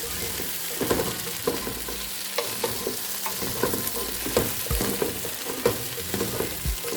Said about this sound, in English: I'm going to give that a little stir, just to fry it up even for just a few moments.